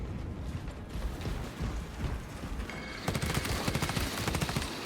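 Sustained automatic gunfire aimed at exposed cooling rods in Space Marine 2, a dense rattling barrage that keeps going and grows louder and harsher partway through.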